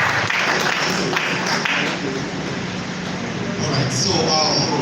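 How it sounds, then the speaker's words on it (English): Audience applause at a mentorship scheme graduation ceremony as a man walks up to the podium to give a testimonial: a steady, dense wash of clapping that carries loudly through the whole stretch, with murmured voices mixed underneath. "A round of applause as he approaches the podium."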